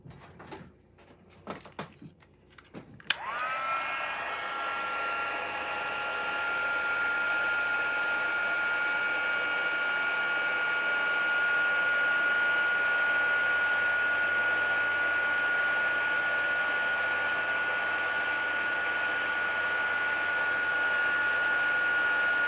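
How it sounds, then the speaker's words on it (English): A paper-crafting heat tool switches on after a few clicks and handling noises, then blows with a steady close whooshing hiss and a thin high whine that holds unchanged to the end. "let me grab my heat tool here"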